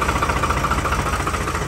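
A Ford tractor engine runs close by with a steady, throbbing idle and a slight pulsing knock throughout a short stretch. No one talks.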